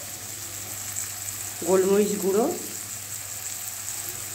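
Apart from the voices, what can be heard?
capsicum and spices frying in a pan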